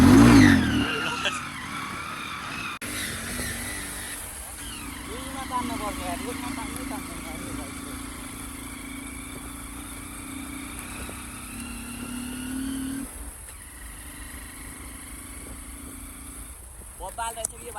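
A motorbike is ridden along a road, its engine note rising and falling through several revving sweeps, close at first and then farther away. People talk over the ride.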